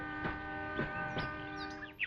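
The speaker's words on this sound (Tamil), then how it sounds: "ட்ரெயின் வந்துருச்சு." A train can be heard, steady tonal hum with a few rhythmic rumbling pulses as it rolls in, fairly quiet, with faint chirps on top.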